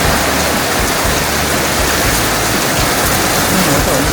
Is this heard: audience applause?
no